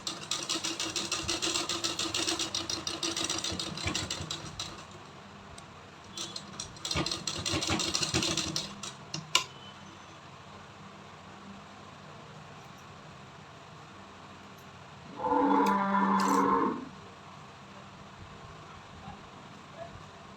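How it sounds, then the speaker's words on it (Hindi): Sewing machine running a double row of stitching along a kurti seam, a steady mid-level whir with brief bursts and pauses; a short louder run of stitching stands out near the end. "तो यहाँ पे डबल सिलाई चला देंगे।"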